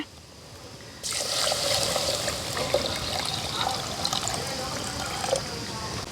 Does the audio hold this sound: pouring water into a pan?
yes